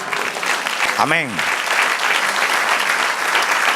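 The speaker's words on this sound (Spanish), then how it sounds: "Denle un aplauso al Señor." Church congregation applauding during a sermon, a steady dense wash of clapping filling the room, with a preacher's voice briefly calling out over it.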